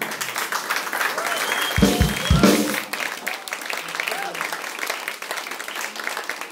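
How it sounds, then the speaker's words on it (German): Audience applause at a German comedy show, a steady wash of clapping lasting several seconds under the host's voice, with two sharp louder thumps near the middle. "Einen kleinen Applaus."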